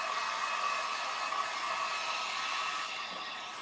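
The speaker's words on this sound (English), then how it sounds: "So I'm going to take my heat gun." Heat gun blowing hot air to dry paint on a gold leaf pumpkin craft: a steady, close, high-pitched whirring hiss that holds evenly throughout, with no talking.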